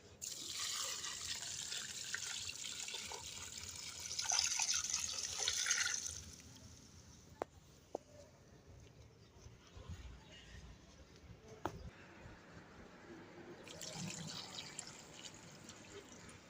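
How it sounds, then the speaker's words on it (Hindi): Water pours and splashes while potted trees and plants are watered at home, with a steady rushing hiss that swells for several seconds, then settles into quieter trickling with occasional sharp knocks. "मैं अभी जल्दी से पेड़ों को भी पानी दे देता हूँ।"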